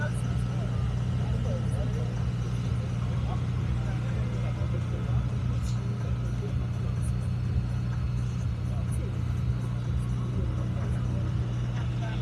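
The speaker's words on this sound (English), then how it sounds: "Now, unless I miss my guess, that is a V6, but it also has an electric motor in it as well to fill in the torque." A hybrid V6 car with an electric motor idles at a UK car event, holding a steady, low rumbling drone throughout as voices talk over it.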